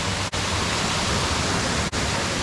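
Steady, dense roar of Bilog Falls in Lagonoy, Camarines Sur, cascading water filling the whole range as a continuous close rush, with two momentary dropouts.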